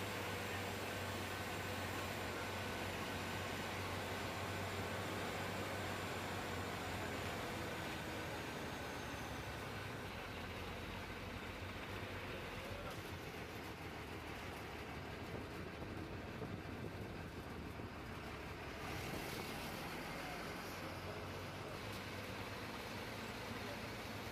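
An ST bus rolls down a narrow, winding two-lane ghat road on the Tuljapur to Solapur route, with a continuous rumbling engine and road noise that stays steady throughout.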